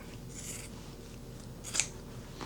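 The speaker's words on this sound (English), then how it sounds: "I'm going to go ahead and just sort of trim it down a little bit" Scissors trim a large piece of fabric for an appliqué tote bag, giving two brief close snips about a second apart over quiet room tone.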